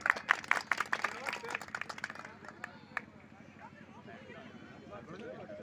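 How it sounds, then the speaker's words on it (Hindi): Applause from an audience at a Hindi poetry gathering (kavi sammelan) greeting a poet, dense clapping at first that thins out within a few seconds, with murmuring voices underneath. "जोरदार तालियों से स्वागत किया जाए"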